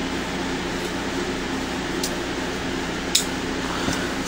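A Hoover 6700 vacuum cleaner runs with a steady, even motor roar and whoosh of airflow, broken by a couple of faint clicks, with no talking.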